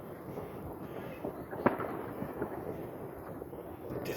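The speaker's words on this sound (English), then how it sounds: "oh shit, those are fireworks." New Year's fireworks burst over Phoenix, Arizona, mostly as faint, distant thumps and rumbles, with one sharper crack standing out partway through.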